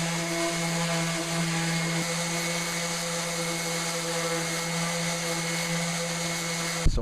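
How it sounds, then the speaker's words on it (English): An electric sander strips old finish from a wooden dresser, holding a steady, loud droning whine with a constant hum throughout before cutting off abruptly at the very end. "So I'm going to sand it a little more."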